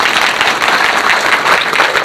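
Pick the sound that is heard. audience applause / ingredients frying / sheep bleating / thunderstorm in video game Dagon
audience applause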